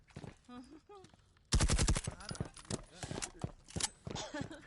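Video game gunfire in a competitive match: a dense burst of rapid shots breaks in sharply after a quiet opening with voices, then scattered cracks and pops continue beneath ongoing talk.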